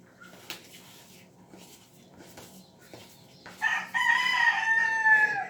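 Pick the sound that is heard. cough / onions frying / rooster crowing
rooster crowing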